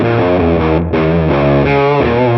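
A heavily distorted electric guitar through overdrive plays thick sustained notes with a buzzing, saturated fuzz tone, loud and continuous with no voices.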